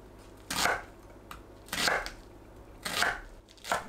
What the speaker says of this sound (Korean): 양파를 1cm 크기로 썰어주세요.